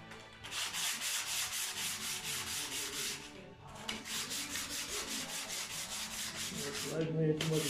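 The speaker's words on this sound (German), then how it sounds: "Jetzt schleifen wir jetzt mal die Sachen" Hand sanding with fine 150-grit sandpaper during model railway platform construction, steady rhythmic back-and-forth rubbing strokes, close and continuous with a brief pause midway.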